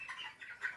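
Chickens on a poultry farm give a short burst of soft clucks and chirps at moderate distance, over a faint background.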